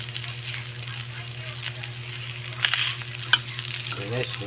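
Tuna pan-grills in a skillet with a steady, close sizzle and crackle, a low hum beneath it and a few brief clatters of utensils near the end.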